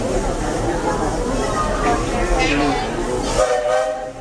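A Walt Disney World Railroad train rumbles along steadily in the evening with a prolonged horn sounding near the end, all under continuous background noise.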